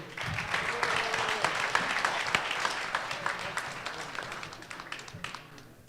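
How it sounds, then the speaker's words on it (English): An audience at a Brooklyn honoring ceremony applauds for Earl Nesbit with sustained clapping that slowly fades, and a voice is briefly heard over it early on. "Everybody give a round of applause for Earl Nesbit"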